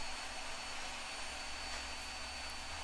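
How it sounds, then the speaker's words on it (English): A bandsaw in a woodworking shop runs steadily after being switched on, giving a constant, loud whirring drone with no change in pitch and no voices. "So let's get over to the bandsaw."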